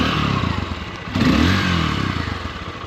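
A 2024 Honda XR150L motorcycle engine runs steadily just after start-up, a close, continuous single-cylinder putter with a brief rise in revs midway and some mechanical clatter.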